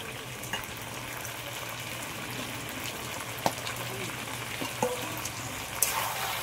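Meat stir-fried in a kadai with potatoes and fried onions gives a low, steady sizzle. A few sharp scrapes and knocks from the spatula come at intervals, fairly quiet overall.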